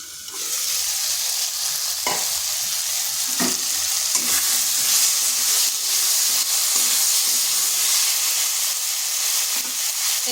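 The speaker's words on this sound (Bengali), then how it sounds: "এটা একটু ভালো করে কষিয়ে নিতে হবে যাতে আদার গন্ধটা চলে যায়" Papaya curry with ginger is sautéed in a pan, giving a loud, continuous sizzle and hiss with occasional stirring scrapes throughout.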